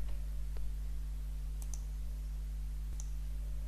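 A few sharp, faint computer mouse clicks while setting up SSL on a GoDaddy-hosted website, spaced irregularly over a steady electrical hum with no talking.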